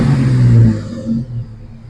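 A Jeep XJ with a hole in its muffler revs, its exhaust giving a loud, close, raspy rumble that swells and then settles back toward idle.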